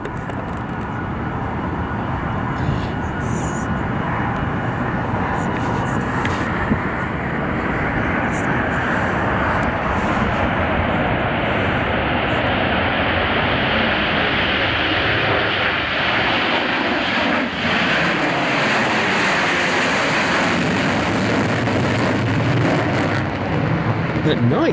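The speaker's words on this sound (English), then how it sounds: "An impressive takeoff of the supersonic bomber Blackjack." A Tu-160 Blackjack supersonic bomber takes off with a loud, sustained jet-engine roar that builds and then shifts in pitch as it passes, continuing for over twenty seconds.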